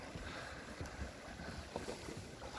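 Water rushing and splashing at the bow of a sailboat cutting through waves under sail, a steady wash with wind noise on the microphone and occasional slaps of spray.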